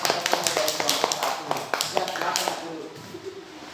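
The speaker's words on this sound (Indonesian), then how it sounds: "tepuk tangan dulu" Students in a classroom clapping hands in a patterned group clap, sharp rhythmic claps at first that thin out and fade, with voices talking over and after them.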